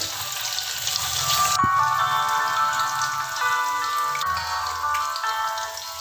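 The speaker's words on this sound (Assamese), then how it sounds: "এতিয়া মাছখিনি হালধি সানি লৈছোঁ। মাছখিনি ফ্ৰাই কৰিম।" Turmeric-coated fish frying in hot oil, a steady broadband sizzle with crackle throughout, close and fairly loud, with no talking.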